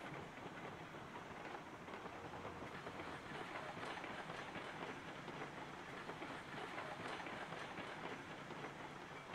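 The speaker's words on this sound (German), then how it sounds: "Lassen wir den Zug mal ausrollen." A train rolls along the rails in the video game Railroads Online, coasting with a steady broadband rumble and a faint clickety-clack of wheels over rail joints, loud and continuous throughout with no talking.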